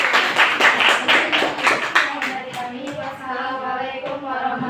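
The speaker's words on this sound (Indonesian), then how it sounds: "kelompok 1 kita beri aplaus kelompok 1" A classroom of students claps for the first group after a static electricity presentation, a close burst of rapid clapping that fades out over a few seconds.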